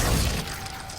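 A Glacius freezing spell in Hogwarts Legacy ends in a brief, bright icy shatter that hits loud at once and quickly fades into a crackling tail.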